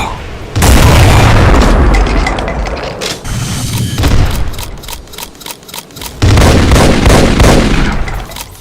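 Explosive minigun fire and rocket barrages from a Doom mod Mastermind boss: loud, dense bursts of booming gunfire and blasts that nearly fill the stretch, briefly thinning around the middle before another heavy volley.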